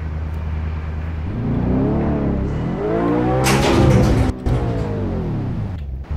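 A modded Mercedes AMG C63 in Euro Truck Simulator revs its engine, rising and falling in loud, close sweeps, with a sharp peak around the middle and a brief drop near the end.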